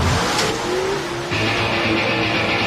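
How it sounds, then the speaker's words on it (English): A Nitrous Pro Modified drag race car drones steadily at high volume at an AC Delco Chevy All-Star Weekend event, its engine tone shifting partway through. "Bill Kuhlmann, just one of the many Nitrous Pro Modifieds you'll be seeing here at the AC Delco Chevy All-Star Weekend"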